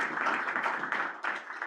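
A small group at a food web planning meeting gives a participant a round of applause, a soft, even patter of clapping with a brief dip before resuming, heard from a moderate distance.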